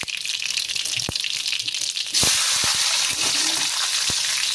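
Sliced green chillies hitting hot mustard-seed tempering in a kadhai, a sudden loud, steady sizzle that jumps up midway and carries on with scattered crackles and pops, no talking.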